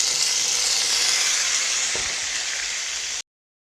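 Spices sizzle and fry in a pot as yogurt is added for beef nihari, giving a steady, fairly loud hiss with one brief soft knock partway through before it cuts to silence.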